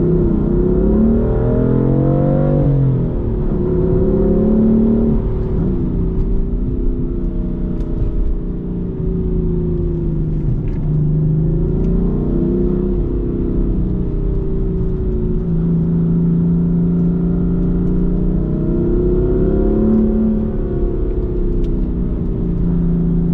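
BMW M4 F82 engine under throttle, revving up and easing off in repeated waves, loud and close with a steady rumbling drone throughout, no talking.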